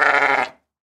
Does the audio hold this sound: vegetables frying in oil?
no